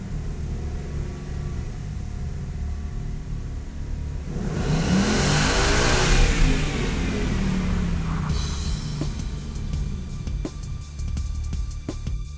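A car accelerates hard on a dynamometer, its engine rising from a steady idle rumble into a loud, climbing roar that holds to the end, with faint clicking alongside.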